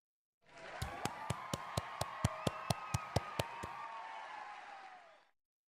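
A group of people clap their hands in a steady, even rhythm, about a dozen sharp claps close together over a sustained background hum.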